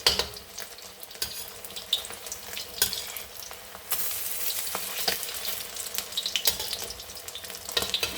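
Leftover fish coated in egg and flour frying in a pan, a steady wet sizzle and crackle with occasional louder pops and spatters, close up and continuous with no talk.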